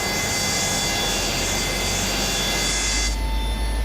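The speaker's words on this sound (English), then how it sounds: "You can really start to hear the growl, man." Boeing 727-200F engine number 1 spooling up during startup in a flight simulator, a steady loud jet roar with low rumbling growl and a high whine, continuous and close with no talking.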